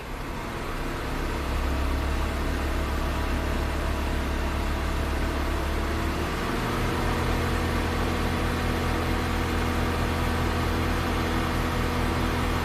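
A 1995 Buick Riviera's supercharged V6, which has a misfire, idles with a deep, steady rumble, then the revs climb partway through and hold at a higher, smoother drone.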